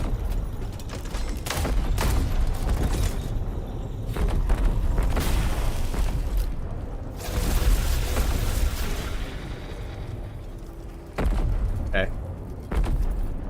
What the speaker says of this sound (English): can you hear the thundering of the cannon fire? It just does not stop.